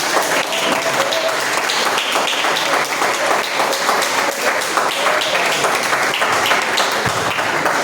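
A church congregation claps together in steady, dense applause throughout, loud and close, with faint voices mixed in underneath.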